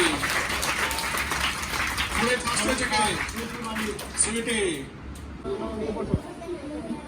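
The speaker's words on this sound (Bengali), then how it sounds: "জিতে সেকেন্ড, জোরে হাততালি।" Children's audience clapping for a prize winner at a gathering in Prasadpur, a dense patter of many small hands that fades out partway, with an adult voice talking over it and chatter around.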